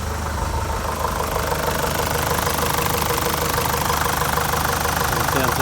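A Nissan Patrol with a ZD30 diesel engine idles on fresh oil, a loud, steady, close-up clattering rumble with a rapid knocking rhythm that holds constant throughout.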